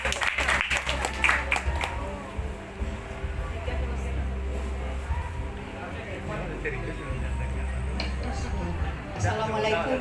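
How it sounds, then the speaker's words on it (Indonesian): Audience applause at an indoor Halal bi Halal gathering of a regional association in Padang, a sustained crowd clapping throughout with room noise, several sharp claps near the start and voices talking underneath. "Tepuk tangan dulu untuk ibu kita ini."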